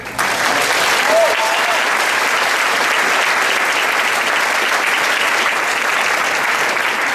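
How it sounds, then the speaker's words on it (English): Sustained audience applause at an honoree celebration for artist Kent Twitchell, a dense, steady wash of many hands clapping that holds at full strength throughout with no pauses. "One more round applause, Mr. Twitchell."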